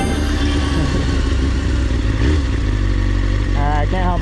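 Motorcycle on the move on neighborhood streets with a steady, loud engine drone throughout, rising in pitch near the end as the rider accelerates, some wind rumble mixed in.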